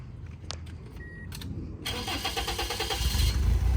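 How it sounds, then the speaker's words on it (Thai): A Toyota Altis engine cranks and catches after a few clicks, then settles into a steady, close idle with a rhythmic pulse. "สตาร์ททีเดียวติดนะครับผม เครื่องถือว่าเดินนิ่งเรียบเลยนะครับ"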